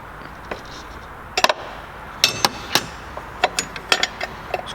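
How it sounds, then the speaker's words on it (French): A socket wrench loosening the last 16 mm bolt on a Volkswagen Polo under repair: irregular metallic clicks, knocks and clinks of tool against metal, close by, over a low background hum. "On vient desserrer la dernière vis de 16 avec une clé à tube."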